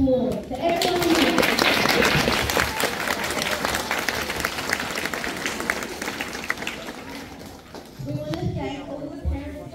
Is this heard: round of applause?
yes